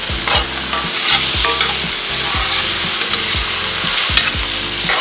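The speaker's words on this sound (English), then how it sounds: "And just kind of start stirring that all together." Vegetables and fresh ginger sauté in olive oil in a cast-iron Dutch oven over medium-low heat outdoors, a loud close sizzle with a spoon scraping and stirring in regular repeated strokes, no speech.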